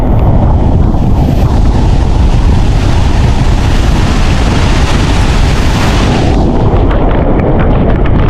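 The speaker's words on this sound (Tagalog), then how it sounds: "At nagsisimula nang lumakas yung hangin dito sa labas." Strong typhoon wind roars steadily outside, a loud, continuous broadband rush with gusting texture that eases slightly near the end, with no talking.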